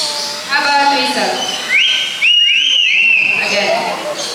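A trained bird at a Cebu safari park show imitates a whistle, giving bright rising and sliding whistled notes, loud and close, after a brief stretch of chatter and crowd murmur.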